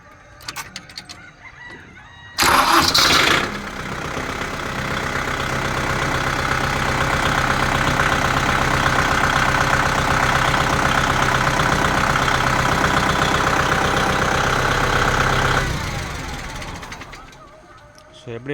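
A Kubota MU5502 tractor's diesel engine fires with a sharp burst, then idles in a steady, loud rumble for about thirteen seconds before shutting off, with a voice speaking nearby.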